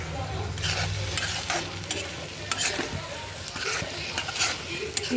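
Spinach and egg curry fries in a pan, a steady close sizzle with repeated stirring scrapes and light clinks of a spoon against the pan throughout.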